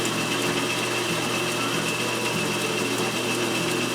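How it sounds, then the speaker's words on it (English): Reamer cutting a hole on a round column milling machine, a steady whining machine drone with a faint tonal hum running continuously and close by, no talk. "Now I'm going to ream that"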